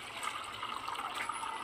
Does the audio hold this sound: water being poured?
yes